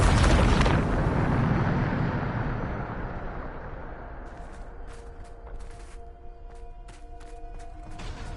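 A spell blast in Hogwarts Legacy erupts loud and close, a broad booming explosion that slowly decays into a rumbling tail with scattered crackling debris and faint magical tones.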